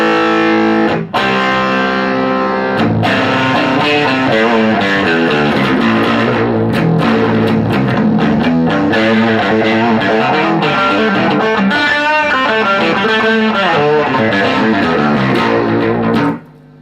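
A heavily distorted Bass VI guitar plays a continuous riff, thick and gritty, loud and alone, ending abruptly.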